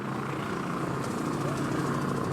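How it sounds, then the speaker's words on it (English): Enemy helicopter in the video game Insurgency Sandstorm, a steady rotor thrum and engine drone holding at moderate level. "Enemy helicopter."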